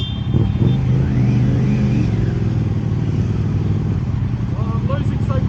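Several motorcycles idle and creep forward together in a slow race, their engines a steady low rumble with occasional light revs, voices chatting over the engine noise.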